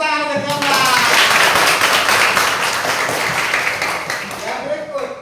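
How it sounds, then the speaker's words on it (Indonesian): A class of pupils claps for a classmate, a burst of many small hands that swells quickly and tapers off, with voices speaking briefly before and after. "tepuk tangan untuk Nyoman."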